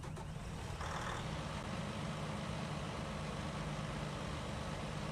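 A tracked tractor in Farming Simulator 19 starts and settles into a steady, deep, throaty idle, a continuous low engine rumble with a brief higher whine near the start, heard alone without talk.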